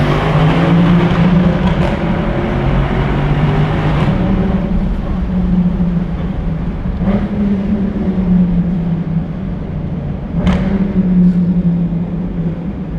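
A Mercedes C63 Edition 507 rumbles steadily through a tunnel, its exhaust letting out several sharp pops and crackles at irregular intervals over the deep, droning engine.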